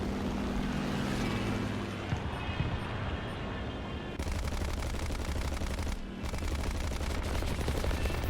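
A rear gunner's machine gun fires in sustained rattling bursts in a video game, close and loud, with engine drone underneath and a brief break midway before the fire resumes.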